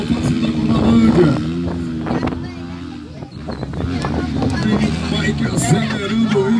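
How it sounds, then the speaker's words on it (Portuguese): Enduro motorcycle accelerating hard at an enduro race in Limoeiro do Norte, a steady engine drone with pitch rising and falling, under continuous crowd babble and a commentator talking. "Acelerando o forte pra fechar sua parcial."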